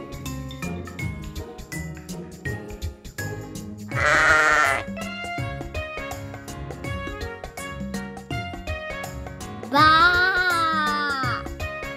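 Two loud sheep bleats from a children's toy or app cut through a busy jingly electronic tune, each a second or two long, with a voice present at a low level.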